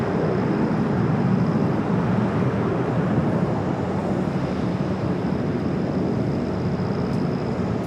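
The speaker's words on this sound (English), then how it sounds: "Let's check out this brand new Dreamliner." Boeing Dreamliner airliner at LAX, a steady broadband jet roar and rushing engine noise heard at a distance, constant and unbroken with faint wind buffeting, no voices.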